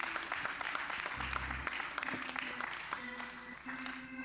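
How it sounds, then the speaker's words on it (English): A church audience claps for children after a Christmas program, a soft, steady patter of applause with sustained tonal music or hum underneath and a brief low thump partway through. "Let's give our kids one more hand clap."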